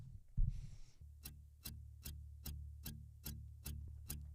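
The null-test residual between a Neve 1073 preamp plugin and the hardware unit: a faint, evenly spaced thuck repeating roughly every 0.4 seconds, alone with no talking.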